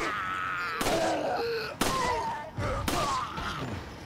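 Resident Evil 4 gunfire sounds out as three sharp, loud shots roughly a second apart, each followed by a brief ringing tail over game background noise.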